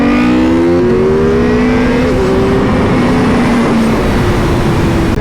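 A Honda Fireblade sportbike revs and accelerates on the road, its engine tone rising and shifting over wind noise, loud and close throughout.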